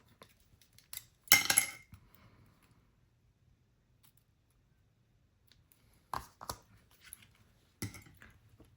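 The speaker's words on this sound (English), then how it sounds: "snip that off with my scissors" A few sharp metallic scissor snips through ribbon ring out, one near the start and a couple more later, separated by quiet pauses.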